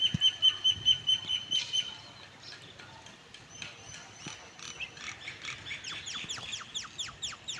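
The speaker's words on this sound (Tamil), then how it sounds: "மைனா பாருங்கள், இதுதான் மைனா" Mynah birds near a rice paddy field give repeated harsh squawks and rapid chirping calls, close by and fairly loud, with bursts of wing flapping as they fly off.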